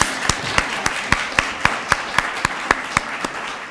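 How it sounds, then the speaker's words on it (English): A single steady clapper beats out a slow, even rhythm of sharp claps over a soft bed of audience applause at a children's book awards ceremony for the winners and honorees. "I would like to round of applause for all of our winners and honors"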